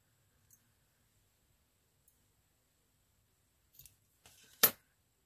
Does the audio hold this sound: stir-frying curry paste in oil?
no